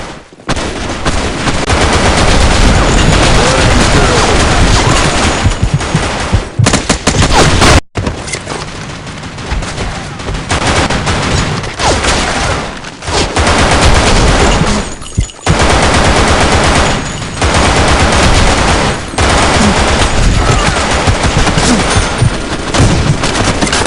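Loud, sustained automatic gunfire from a weapon in the online shooter BlackShot on the Lost Temple map, rapid bursts rattling almost continuously with only brief pauses.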